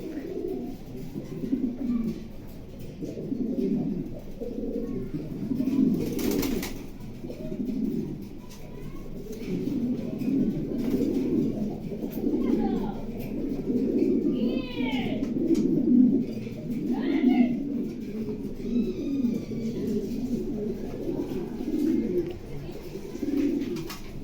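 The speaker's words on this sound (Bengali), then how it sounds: "আজকে আপনাদেরকে এক জোড়া কবুতর দেখাবো" Mondain racer pigeons kept at a breeding farm with eggs and young coo steadily in low, throaty rolling calls, several birds overlapping in a continuous close chorus, with occasional faint chirps and brief sounds of handling.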